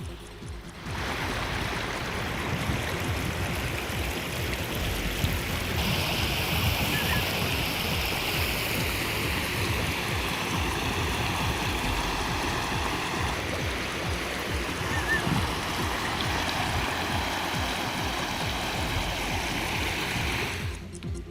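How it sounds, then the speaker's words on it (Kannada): Floodwater from a rain-swollen stream at Devarahalli near Challakere rushes steadily across a road, a loud continuous roar of flowing water filling the whole stretch without pause. "ಚಳ್ಳಕೆರೆಯಲ್ಲಿರುವ ದೇವರಹಳ್ಳಿ ಹಳ್ಳ ತುಂಬಿ ಹರಿತಾ ಇದೆ"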